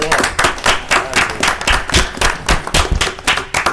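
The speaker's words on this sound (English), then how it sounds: "I think that round of applause was for Lewis and Doug Rainwater" A room full of people gives a round of applause at a city council meeting, dense hand clapping with rhythmic pulses, loud and sustained for a few seconds with no talk.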